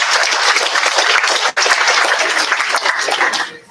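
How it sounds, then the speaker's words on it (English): An audience at a 2025 Fremont Public Schools Learning Center graduation ceremony claps loudly and continuously, a dense close wash of many hands with a brief dip midway before fading at the end. "So can we give him a round of applause?"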